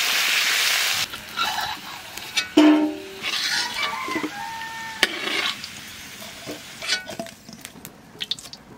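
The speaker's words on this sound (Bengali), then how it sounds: "মাছ ভাজা তেলের মধ্যে আলু কয়খানা বাজিয়ে নেব" A few potatoes fry in oil left over from frying river catla fish, the pan hissing while a spatula scrapes and clinks against the metal; a louder splash of sizzle opens, then intermittent stirring noises, close by with no speech.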